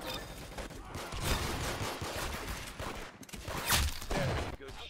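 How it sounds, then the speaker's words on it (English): Gunfire in the online shooter game Arsenal, with dense bursts of rapid shots and fusillades at close range, loud and overlapping across the clip. "Very good shooting."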